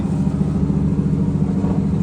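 Vermeer gas-engine wood chipper with a misfire, running as a steady, loud, low droning rumble with slight irregular flutter, close by and without talk.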